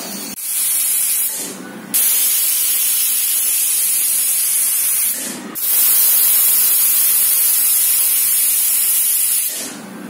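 A pressure cooker on the stove, steaming rice-flour undrallu dumplings for a Vinayaka puja, lets out loud, steady hissing jets of escaping steam in long stretches separated by brief breaks, with no talking.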